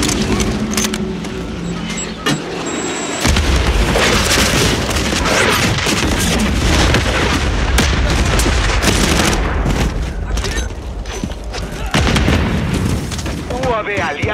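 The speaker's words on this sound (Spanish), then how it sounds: "Bombardeo estratégico aliado en campo." An allied strategic bombing run pounds the Rust map in Call of Duty MW3 with a heavy barrage of loud booms, explosions and gunfire, thick and continuous after a short quieter lead-in, with voices speaking over it.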